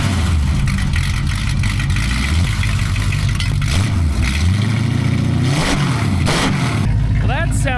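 A pickup truck fitted with a NASCAR-style boom tube exhaust idles and revs in repeated deep, loud pulses, with a voice speaking over the engine partway through.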